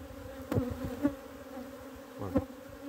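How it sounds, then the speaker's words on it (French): Honey bees buzzing around a nucleus hive during an outdoor hive inspection: a steady, close drone of many wings with a few louder swells as individual bees pass near. "je vais pouvoir récupérer les abeilles qu'il y a ici"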